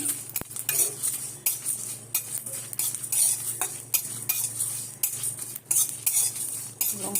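A metal spoon scrapes and clinks steadily against a pan while fried chillies and spices for mango pickle are stirred, with a constant sizzle underneath and no talking.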